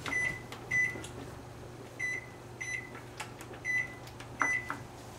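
A kitchen timer being set for 20 minutes: a series of short, clear electronic beeps at uneven intervals, close by, over a steady low appliance hum.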